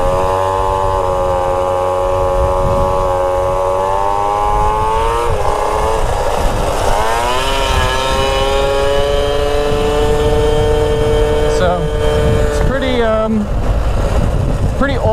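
An old Kawasaki 440 LTD motorcycle from around the late 1970s or early 1980s idles loud and close, its engine note rising and falling through several revs before settling again.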